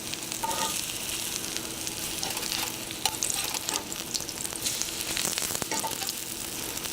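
Sweet potato pancakes fry in a pan with a steady, bright sizzle and small crackles and pops, with no voices over it.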